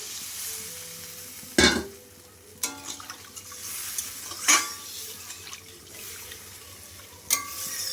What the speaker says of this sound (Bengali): আমি এবার জল দিয়ে দিচ্ছি পরিমাণ মতন